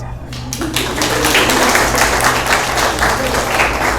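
An audience claps steadily in a hall, a dense sustained applause that starts after a brief quieter moment and continues throughout, with a voice faintly underneath.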